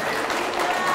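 A crowd at a political rally clapping hands, giving a dense, continuous patter of applause that stays loud and even for the whole moment.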